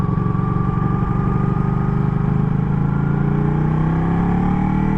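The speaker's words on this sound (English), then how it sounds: "On the V4 I find you have to drop down to first gear quite a lot for sort of town work." A Ducati V4 motorcycle engine drones loudly and steadily at low revs during slow town riding in first gear, its pitch sliding gently downward as speed eases, with no voices.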